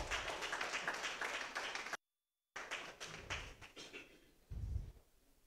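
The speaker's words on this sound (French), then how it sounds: "Je voudrais qu'on puisse l'acclamer" Audience applause at a graduation diploma ceremony, a dense patter of clapping that breaks off abruptly, then resumes as scattered hand claps with a few heavier thumps, moderately distant in a large room.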